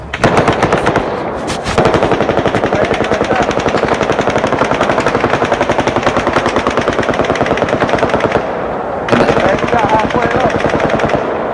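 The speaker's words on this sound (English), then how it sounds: "That's the gunfire we looked at that just went off. The volley of gunfire we looked at." Sustained rapid automatic gunfire during the Las Vegas shooting, caught on a police bodycam, rattles on as a loud, dense volley with only brief gaps for about eleven seconds.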